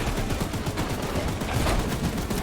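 Double-barrel shotgun blasts in a video game, dense loud gunfire with overlapping reports that go on without a break throughout.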